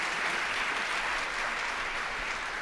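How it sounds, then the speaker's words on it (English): Continuous, thick applause fills a conference plenary hall as an audience claps for speakers, evenly loud and unbroken from start to finish. "I'd like one more round of applause for these women."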